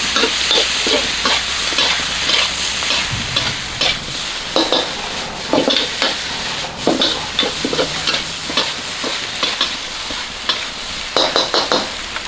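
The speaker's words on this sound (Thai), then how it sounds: "คั่วคั่ว" Loud, continuous sizzling of spring roll filling being stir-fried in a hot pan with salt, chili, soy sauce and sugar, with rapid repeated clanks and scrapes of a spatula tossing it throughout.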